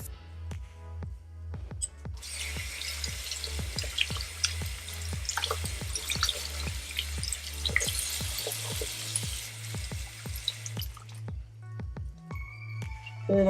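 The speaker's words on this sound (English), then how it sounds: "And then I just squeeze all the water out of the brush and lay it flat." A makeup brush is rinsed under running water and squeezed out, with a steady faucet stream and repeated wet squishing pulses close by, ending with a few drips once the water stops.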